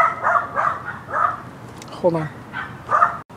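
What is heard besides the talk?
dogs barking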